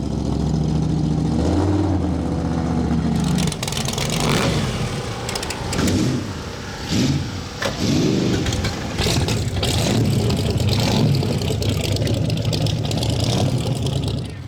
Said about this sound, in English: walking through the pits while the cars start up for the first time in the morning